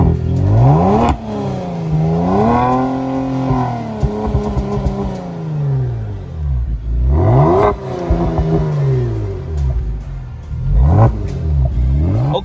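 Kia Stinger GT engine catching on a cold start with a loud flare of revs, then rising and falling revving over several seconds and a few more blips near the end, heard close from behind the car with no talk.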